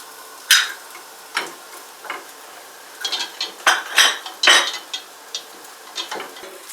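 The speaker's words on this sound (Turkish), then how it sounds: "2 yemek kaşığı sıvı yağ ve 2 yemek kaşığı unu koyup unun kokusu çıkana kadar kavurmaya başlıyoruz." Flour and oil being roasted in a pot for bıt bıt soup, heard as a spoon scraping and clinking against the pot in irregular strokes, close and moderately loud with a faint background hiss and no talking.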